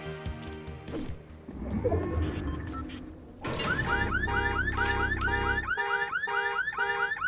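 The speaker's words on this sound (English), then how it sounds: "you might have noticed that this has a car alarm, and it never did before" Car alarm on a vehicle in the Fortnite video game, a loud electronic siren cycling through repeating whooping and warbling tones, preceded by engine and game noise.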